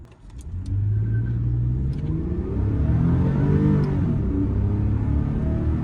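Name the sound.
2015 Toyota Venza V6 accelerating with wheel spin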